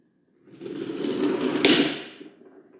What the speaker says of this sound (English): I set up my trolley, I make sure it's in line, I put my mass over the side of the pulley, and I let go